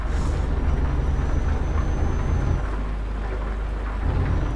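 Steady rain with deep thunder rumbling in Euro Truck Simulator 2, a continuous loud wash of downpour over low rolling thunder, with no voices.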